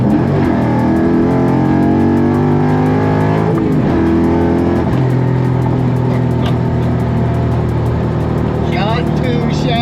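The engine of a 1997 Cobra roars loudly and close, revving up and holding a steady drone with pitch shifts, while a voice speaks briefly underneath.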